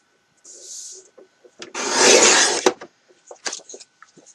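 A 12 by 9 3/4 inch piece of card being cut down from a 12 by 12 sheet, heard as a sustained rough rubbing scrape of about a second, with small taps and shuffles of handling before and after.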